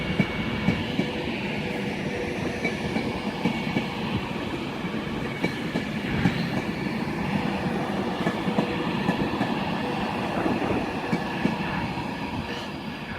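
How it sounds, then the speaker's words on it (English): Class 350 train arriving at Crewe station on the West Coast Main Line from London Euston, a continuous rumble of wheels on rails with rhythmic clicks and faint squeals, moderately close and steady. "Oh, it is a 350 coming in from London Euston."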